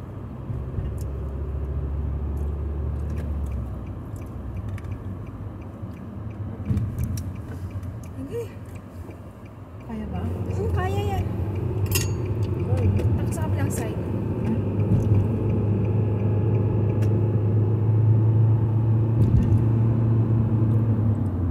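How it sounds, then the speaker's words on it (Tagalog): Road traffic in a Canadian city, a steady low rumble of passing cars with louder swells, running under ongoing conversation. "Traffic na yun."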